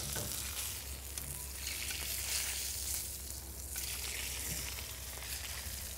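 Rosemary sizzles in a cast iron pan over direct, even heat, a steady close hiss of frying that holds at a constant level with a slight swell partway through, no voices.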